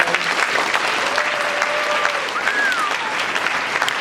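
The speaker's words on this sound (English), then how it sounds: "Let's go ahead and give them a round of applause" Steady, full applause from an audience in a high school auditorium during a Black History Month assembly, continuous and fairly loud throughout, with a faint whistle or voice rising briefly over the clapping.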